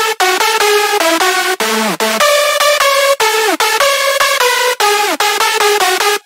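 A dry synth lead for a remix, with no processing, reverb or delay, plays a bright buzzy melody of short repeated notes with occasional downward pitch glides, steady and loud throughout.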